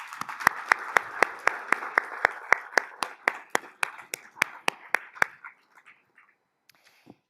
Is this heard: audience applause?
yes